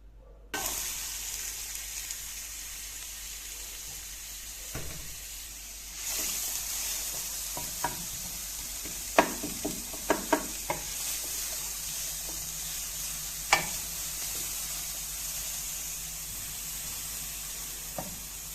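Onion and garlic frying in a drop of oil in a tray give off a faint, continuous sizzle, with scattered soft clicks and scrapes in the middle stretch and no voices.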